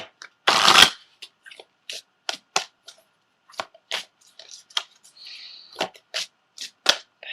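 A deck of tarot or oracle cards is shuffled up close, one long riffle followed by a string of short, crisp flicks and slides of cards, with near silence between them.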